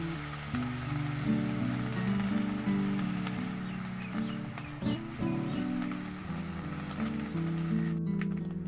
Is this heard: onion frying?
yes